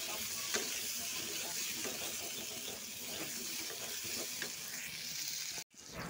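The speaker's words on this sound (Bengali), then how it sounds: "এখানে আমি পেঁয়াজ আর রসুনগুলো ভেজে নিচ্ছি তেলের মধ্যে" Onions and garlic frying in oil for a spicy chicken dish, a quiet, steady hiss of sizzling that continues evenly, then cuts out briefly near the end.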